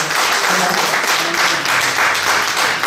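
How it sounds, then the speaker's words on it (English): Audience giving a round of applause, a loud, dense wash of many hands clapping steadily and close, unbroken from start to finish. "I think that deserves a round of applause for all of you guys"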